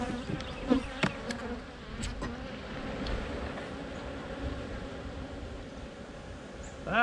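Honey bees buzz around an open hive during an October check, a continuous close drone with a few sharper passing whines of individual bees and some light handling knocks, no talk.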